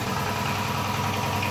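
An air compressor runs steadily in a cluttered auto repair shop while a Toyota V6 engine job sits nearby, a constant loud mechanical drone with no breaks and no talking.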